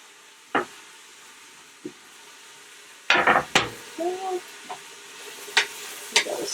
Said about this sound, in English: Stir there in the coconut oil.